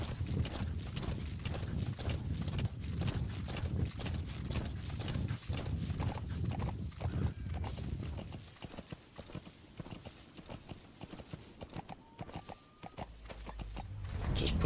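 Steady clip-clopping hooves of a horse in Metal Gear Solid 5: The Phantom Pain pound close and loud, easing later, with a faint whinny and no talk.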